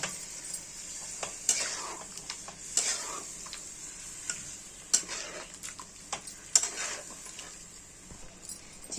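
Chicken rezala is stirred in a cooking pan, with light scraping and clinking strokes over a faint sizzle, quiet and fairly close.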